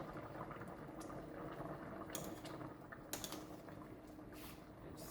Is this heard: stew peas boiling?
yes